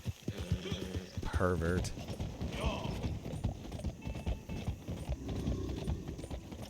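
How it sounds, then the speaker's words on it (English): Horse hooves clip-clopping at a walking pace in a game scene, close and fairly clear, with a brief whinny and a voice talking over them. "Wish my horse looked that nice."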